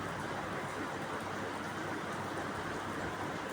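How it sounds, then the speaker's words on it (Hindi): Steady rain falls outside as a dense, even hiss of drops, constant and fairly loud throughout with no pauses or voices. "तो बारिश हो रही है, उसको थोड़ा इग्नोर कीजिएगा आप।"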